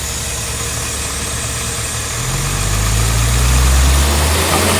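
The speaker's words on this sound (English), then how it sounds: "Actually, let's do a couple revs." A 1971 Mercedes-Benz 280SL engine, still cold, idles steadily nearby, then revs up to a higher, louder pitch and eases back down, with no voices.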